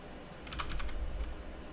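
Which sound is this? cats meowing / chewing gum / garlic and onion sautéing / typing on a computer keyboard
typing on a computer keyboard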